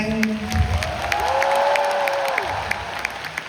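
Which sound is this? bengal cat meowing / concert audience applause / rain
concert audience applause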